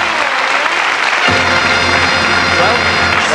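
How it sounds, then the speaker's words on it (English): A studio audience at the 1983 Bullseye TV game show breaks into loud, dense applause about a second in, sustaining a thick wash of clapping after a brief stretch of quieter crowd noise. "Give them an encouraging round of applause."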